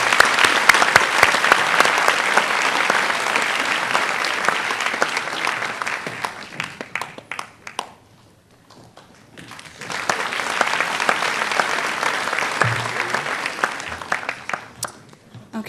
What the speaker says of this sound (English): Please give a warm round of applause for Abigail.